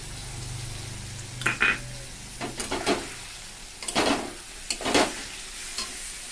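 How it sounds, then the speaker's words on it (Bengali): Rice and pointed gourd (potol) frying in a pan with salt and turmeric, a soft sizzle under several short scraping stirs of a spatula, close and fairly quiet. "তারপরে আমি দিয়ে দেবো এতে চালটা ভাজা হবে পটলের সাথে।"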